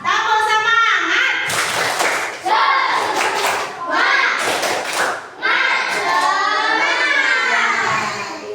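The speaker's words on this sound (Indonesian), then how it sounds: "tepuk semangat dulu ya" Schoolchildren in an Indonesian classroom do a rhythmic spirit clap, bursts of patterned clapping and thumps mixed with loud shouted chanting, in several waves close by.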